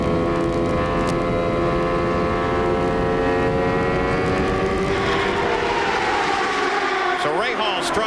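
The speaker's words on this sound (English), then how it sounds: "Let's listen to this engine" A CART Indy car's engine at Phoenix in 1994, Rahal's car, gives a sustained high-pitched drone that holds steady and then drops in pitch as it passes, heard loud under a broadcast mix.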